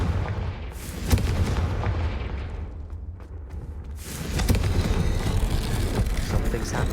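Blasting-spell explosions from the Hogwarts Legacy video game boom and rumble in heavy, continuous bursts, loud and close, with a brief lull midway before the blasts surge again.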